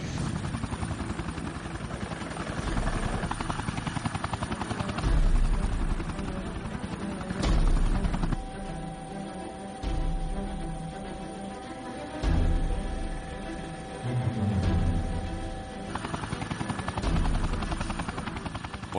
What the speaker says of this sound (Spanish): Me resulta emocionante volar en helicóptero en cualquier lugar del mundo.